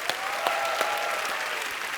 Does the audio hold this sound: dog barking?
no